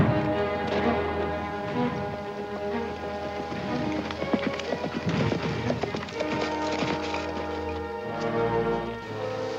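Horses galloping with hooves clip-clopping in a rapid, continuous rhythm, loud and close, layered with other action noise in a swashbuckling cavalry scene.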